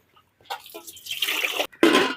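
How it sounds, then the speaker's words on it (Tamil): A little water splashes into a pan of cooking mutton intestine gravy, a soft start followed by a louder, fuller pour after a brief pause, close and alone. "ஒரு சொட்டு தண்ணி"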